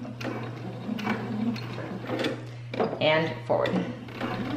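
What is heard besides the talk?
sewing machine doing a back stitch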